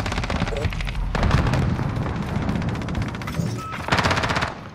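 Rapid automatic bursts from a Bizon submachine gun in a first-person shooter match on the Shoot House map, with loud close strings of shots and brief pauses between them, and a voice talking partly underneath.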